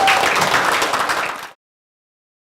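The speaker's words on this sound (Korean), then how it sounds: "다시 한번 꼭 성취될 수 있도록 박수를 좀 해주시기 바랍니다" A burst of dense audience applause fills a hall at an education policy forum. The many hands clap loud and steady for about a second and a half, then cut off abruptly into silence.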